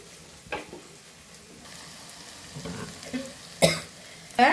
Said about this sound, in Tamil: நல்லா கோல்டன் ப்ரௌன் கலரில் வரணும் அது வரைக்கும் நல்லா வதக்கிக்குவோம்